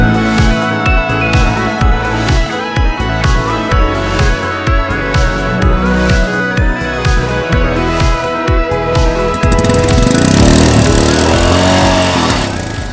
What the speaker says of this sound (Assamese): বাইকখনৰ চাউণ্ডটো মানে আমাৰ বুলেটৰ চাউণ্ডৰ নিচিনা নহয়